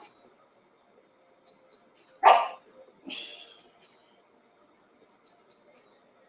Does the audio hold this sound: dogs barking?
yes